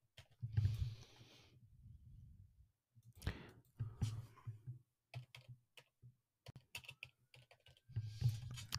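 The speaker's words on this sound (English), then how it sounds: "Sorry for the slow typing." Slow, one-handed typing on a computer keyboard, with scattered clicking keystrokes in short bursts and pauses, close and quiet with no talking.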